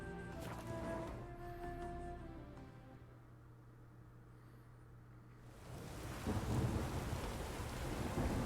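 Rain and rolling thunder in The Witcher 3 fill the scene, a deep rumble under steady rainfall that eases in the middle and then swells into heavier, louder downpour near the end, with game music faintly underneath.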